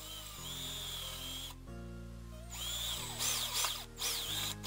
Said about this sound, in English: I marked and drilled some starter holes for a couple of lag bolts